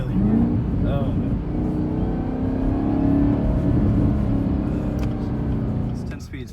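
A 2019 Chevrolet Camaro ZL1 with a ten-speed transmission drones steadily from inside the cabin as it downshifts at low revs, a continuous loud engine tone with brief chirps, no speech heard.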